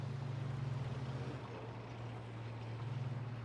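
Bobcat armoured vehicle engine in Arma 3 droning with a steady low, pulsing hum that stays constant throughout, heard from inside the vehicle with no talk over it.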